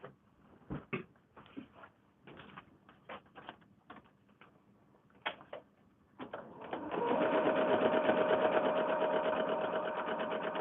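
A sewing machine stitches foundation paper piecing for a flared kimono quilt block: a series of short, close bursts and handling clicks, then a sustained loud run of rapid whirring stitching for the final few seconds.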